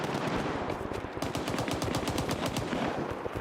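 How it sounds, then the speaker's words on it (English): Rapid automatic gunfire in STALKER 2, a dense run of sharp repeated shots that picks up into a steady rattling burst, loud and close with no talking over it. "Immediate gunshot noises."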